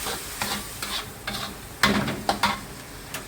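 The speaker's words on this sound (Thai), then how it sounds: "แล้วเราก็ผัดให้เข้ากันนะคะ" Mussels with holy basil are stir-fried in a pan, with a quiet sizzle under repeated scraping strokes of a spatula, a few of them sharper and louder, and no talking.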